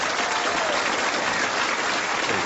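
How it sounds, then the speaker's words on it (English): A studio audience on a 1982 television talk show applauds for Billy Smith, Elvis's cousin, with a loud, continuous wash of clapping that stays level from start to finish. "A little applause for"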